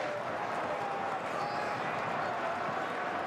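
Charlton Athletic supporters cheer a goal that levels the match against Brighton & Hove Albion, a steady roar of crowd noise filling the stadium throughout without pause.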